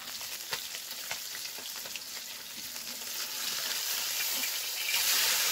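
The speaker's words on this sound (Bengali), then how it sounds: "তো দেখো একদিকটায় আমি মাছ ভাজছি আর একদিকটায় হচ্ছে ভাত।" Fish sizzles in a frying pan with scattered crackling pops at first, the hiss growing louder and denser near the end while rice cooks alongside; nobody speaks.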